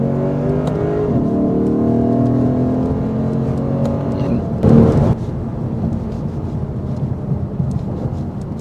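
A Lexus RC F accelerates hard out of a corner on a race track, engine note rising in steady harmonic tones with a brief loud burst of wind or road roar midway, loud and close.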